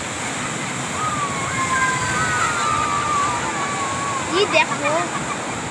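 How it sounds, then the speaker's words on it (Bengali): Sea waves wash in and out at Digha beach with a continuous, nearby rush of surf and sloshing water, while people talk briefly over it. "একবার জল আসে একবার যায়।"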